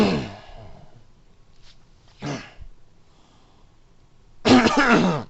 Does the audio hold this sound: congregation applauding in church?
no